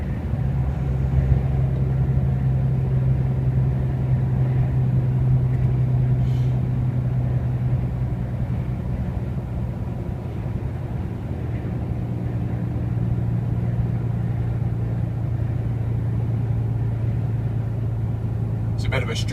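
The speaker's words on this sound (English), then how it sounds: "It's a bit of a struggle as well, as you can probably hear with the gear changes." A car engine drones and rumbles as it climbs the high Pont de Normandie bridge, a continuous low strained hum with shifts in pitch at gear changes, heard from inside the vehicle with someone talking over it.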